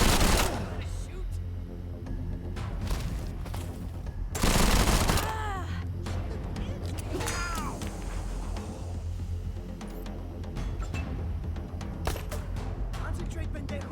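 Gunfire in the video game Wasteland 3: a burst of rapid shots near the start and another sharp volley around the middle, with scattered single cracks and game ambience throughout, under talk.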